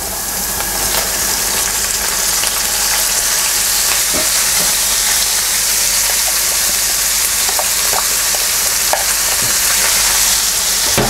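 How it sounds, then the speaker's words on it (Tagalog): Ground pork sautéing in a pan with softened onion and garlic, a steady close sizzle and frying hiss with occasional stirring scrapes, continuous and fairly loud with no talking. "So, igisa lang natin to hanggang maging golden brown."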